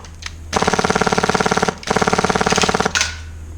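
Airsoft replica firing full-auto bursts of BBs in a garden, two long rapid strings of sharp, evenly spaced cracks, loud and close, with a short pause between them.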